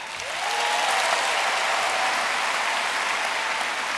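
Steady applause from a large convention audience at a Star Wars fan celebration, swelling quickly and holding as a dense, loud wash of clapping and cheering through to the end.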